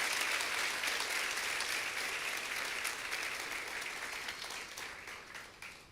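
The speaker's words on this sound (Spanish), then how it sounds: "Un fuerte aplauso al Señor por eso." Church congregation applauding during a service, a thick burst of many hands clapping that starts loud and gradually tapers off toward the end.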